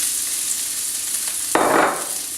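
Thick vegetables, including leftover steamed broccoli, sizzle in a hot stir-fry pan with a sudden loud hiss as they hit the oil, over a constant frying crackle.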